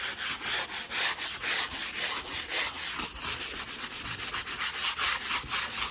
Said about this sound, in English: now I have to use this thing to kind of sand it a little bit before I could paint it